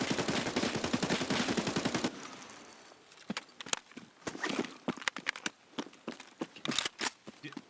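Video game gunfire, with a dense rapid machine-gun burst at the start followed by scattered, separate shots and sharp cracks, loud and close.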